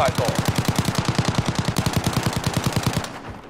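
Rapid automatic gunfire rattles in a Call of Duty Warzone Resurgence match, a loud, close, unbroken burst of evenly spaced shots lasting about three seconds before cutting off.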